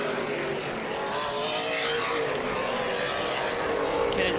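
Race cars on an opening-night oval track roar past in a continuous, loud engine drone with a blur of crowd and track noise behind it.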